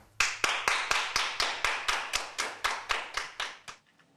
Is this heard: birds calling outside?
no